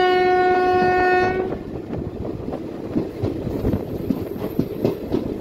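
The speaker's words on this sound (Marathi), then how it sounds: "कोणती तरी ट्रेन येत आहे." A passing train with a loud horn blast at the start, then a steady rumble and rattle of cars rushing by, heard up close from aboard another train between Nanded and Chhatrapati Sambhaji Nagar.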